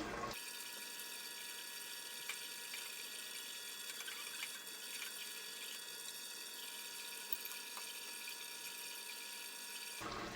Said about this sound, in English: I held this graduated cylinder under the flow of water for 5 seconds